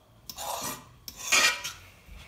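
A cast iron pan is scraped in two rasping strokes while venison lasagne is cooked, each a loud, close, gritty scrape with a short pause between.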